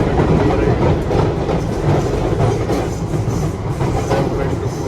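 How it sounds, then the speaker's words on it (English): A Paris Metro line 8 train runs loudly with a continuous rumble and rattling wheel noise, heard from on board. "So this is metro number 8."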